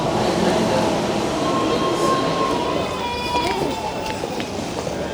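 A train rumbles steadily as it slows pulling into a station, with faint wheel squeals and a brief high whine, while people talk quietly in the background.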